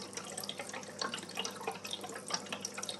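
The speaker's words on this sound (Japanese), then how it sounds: "ほぼほぼ水の音しか聞こえないように" Steady splashing rush of water pouring from a Kotobuki Super Turbo Triple Box top filter into an aquarium, close and constant with no voices.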